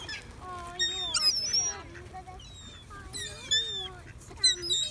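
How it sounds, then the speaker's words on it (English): A big red-headed goose at a park where birds are fed bread gives repeated nasal honks in irregular bursts, fairly close, with other birds calling around it and people talking quietly nearby. "This big goose wandered over to us with this big red head."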